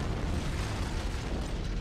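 An antimatter charge explodes aboard a ship in the Halo video game, a dense, sustained roaring blast of broadband rumble that fills the whole moment at steady loudness, with no voices.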